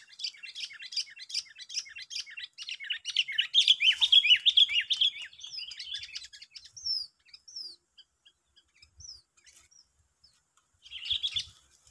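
Young birds caught while bird trapping give a burst of rapid high chirps and tweets, dense at first, then thinning to scattered calls and a brief final flurry, close and fairly loud with no talk.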